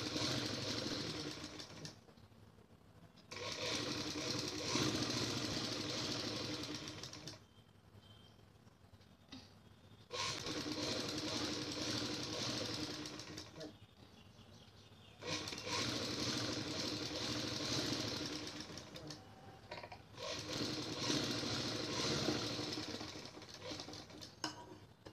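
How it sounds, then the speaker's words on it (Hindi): Sewing machine stitching a salwar, a steady close mechanical whirr running in several long bursts separated by brief quieter pauses. "अब एक सिलाई हम ऊपर से लगाएंगे यहाँ से, ये देखिए यहाँ से बिल्कुल सीधी सिलाई।"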